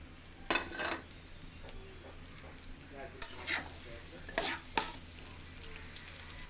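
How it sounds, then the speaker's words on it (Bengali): Onions and spices frying in oil in a wok (kadai) for a dried lotte fish (shutki) bhuna, a soft steady sizzle with a few sharper scraping stirs and spoon clinks near the middle and end. "কড়াইতে তেল দিয়ে দিয়েছি আর সব উপকরণগুলো একসাথে দিয়ে দিব।"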